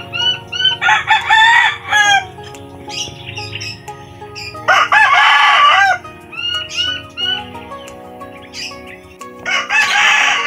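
Tornado Hatch roosters crow loudly and repeatedly at close range, long drawn-out calls overlapping with clucks and chirps from other chickens in the flock, with no voices heard.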